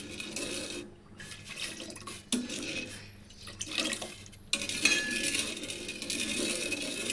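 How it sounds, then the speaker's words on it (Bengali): Milk being heated in a pot while it is stirred without pause, heard as wet sloshing with soft spoon clinks against the metal, close and fairly loud, with no talk. "এই দুধটা যখন জাল দিব তখন এভাবে অনবরত নাড়তে হবে যেন দুধটা"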